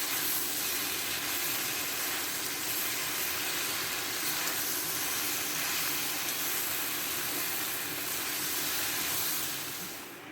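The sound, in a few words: pointed gourd and shrimp frying and being stirred in a wok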